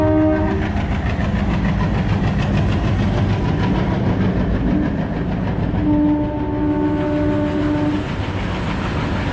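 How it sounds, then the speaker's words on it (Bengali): Assam local train at a railway station platform, its steady rumble and clatter of passing carriages loud and continuous, with sustained horn tones sounding briefly near the start and again toward the end. "এই যে সামনের যে ট্রেনটা তোমরা দেখতে পাচ্ছ, এটা হচ্ছে আসামের একটা লোকাল ট্রেন যতদূর সম্ভবত।"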